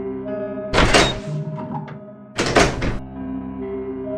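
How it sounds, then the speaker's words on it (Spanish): Two loud, heavy mechanical clunks about a second and a half apart, like a massive door unlatching and swinging open, over a low steady hum. "Aquella enorme puerta se abre en dos."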